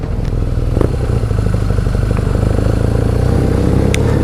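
A BMW R nineT motorcycle on the move in the Cotswolds, its engine holding a loud, steady mid-range drone close by for the whole stretch, with a few small clicks and clatters riding on top.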